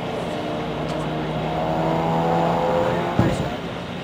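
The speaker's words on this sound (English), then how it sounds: "And the 156 car crosses the line," A race car climbs the mountain course at the 2014 Pikes Peak International Hill Climb, its engine a steady sustained drone with harmonic whine building slightly, a brief sharp bump near the end, with talk over it.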